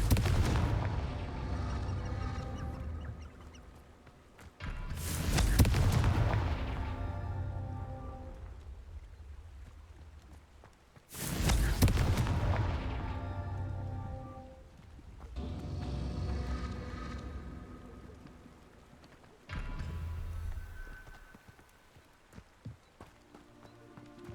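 Repeated Confringo blasting curse explosions in the Hogwarts Legacy video game, four or five heavy booming blasts each trailing into a long rumbling, crackling decay, loud and spaced several seconds apart.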